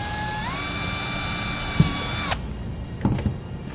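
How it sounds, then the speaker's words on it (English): Power drill whines at a steady pitch for about two seconds while a 3/32 inch bit bores holes during a trailer brake controller install, then stops abruptly, followed by faint handling clatter. "Now we'll use a drill bit. You want to drill holes."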